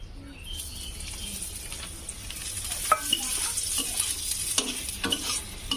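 Oil sizzling and frying in a pan while potato-stuffed parathas cook, a steady crackling hiss with small pops and stirring scrapes, heard close up and without talk.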